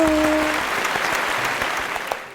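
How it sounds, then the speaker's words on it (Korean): Burst of applause from many hands, steady dense clapping throughout with a faint voice tone at the very start, fading slightly at the end. "박수!"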